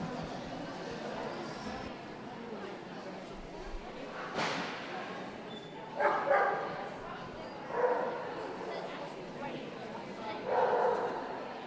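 A Welsh Springer Spaniel in the gundog group at a championship dog show gives a few short, moderately loud barks spaced several seconds apart over steady hall ambience, with a voice also present.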